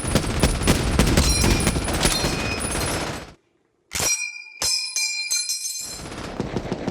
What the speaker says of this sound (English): At the last round, this ping would eject this metal cartridge. It's a very distinctive sound.